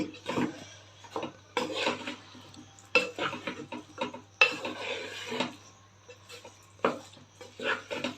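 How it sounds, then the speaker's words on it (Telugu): A utensil stirs and mixes vangi bath, a spiced eggplant rice, in a metal pan, giving repeated sharp scraping clinks in irregular bursts with brief pauses between strokes. "ఇంకా దీన్ని బాగా కలిపేస్తాను"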